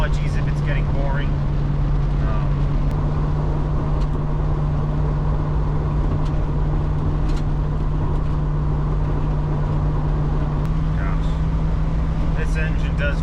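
A 1970s-era Mach 1 Cobra Jet car fitted with a 351 engine driving on a road, a steady loud engine drone with road rumble from inside the cabin, with people talking over it.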